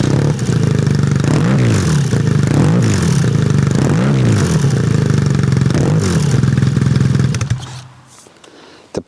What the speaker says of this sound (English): It is a sports exhaust, but it sounds beautiful. Not too loud, because I don't want to annoy the people on the street, but just loud enough.